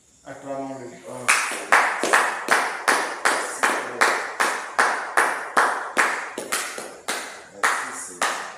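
A congregation claps in praise during a French-language prayer service. The clapping is steady and rhythmic, in even beats about every half second, loud and close, and follows a brief spoken or sung opening.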